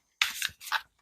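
Oracle cards are riffled in two quick papery bursts at close range, a crisp shuffle then a pause before a second shorter flutter.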